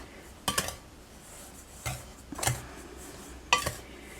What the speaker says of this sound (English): I'm just going to use my measuring cup to stir it.